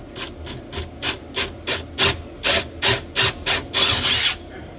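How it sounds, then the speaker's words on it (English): A steady series of short rasping strokes, about a dozen, grows louder and quicker, like a hand drill boring into wood up close. "Now I'm going to attempt to drill this straight and accurately by hand"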